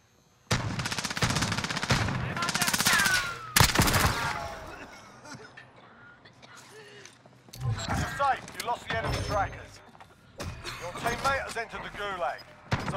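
Close bursts of rapid automatic gunfire crack and rattle in a Warzone match on Rebirth Island, with loud single shots and quieter gaps between volleys, while players talk over the shooting.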